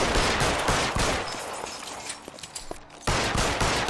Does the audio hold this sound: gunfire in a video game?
yes